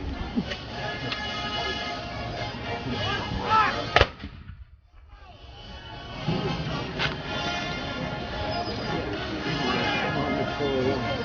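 A 25-pounder artillery gun fires once, a sharp loud blast followed by a brief hush, while people talk nearby before and after the shot.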